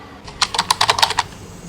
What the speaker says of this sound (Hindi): ये टाइपिंग के लिए।